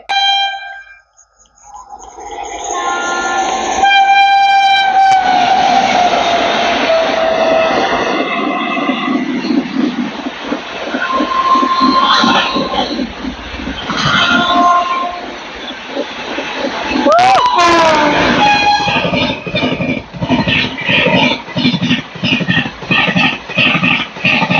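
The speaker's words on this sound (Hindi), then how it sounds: "अच्छी खासी रफ्तार में भाई साहब दोनों ट्रेन आ रही है" Two trains pass each other at speed on an Indian railway line near coal mines, a loud rushing rumble with rhythmic wheel clatter, and horn blasts sounding near the start and again later in the pass.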